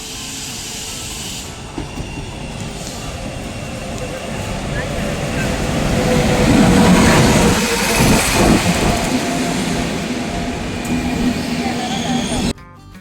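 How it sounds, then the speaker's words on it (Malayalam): A train pulls into Piravom Road railway station, its rumble and clatter rising in a loud swell near the middle with some squealing hiss, while people talk nearby, then cutting off abruptly at the end. "നമ്മുടെ ട്രെയിൻ വന്നു."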